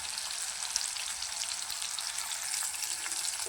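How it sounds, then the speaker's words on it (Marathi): Masala for stuffed bitter gourd fry sizzles in hot oil, a steady dense hiss close by with no pauses and no talking. "हा मसाला आपण चांगला तेलामध्ये फ्राय करून घेऊया।"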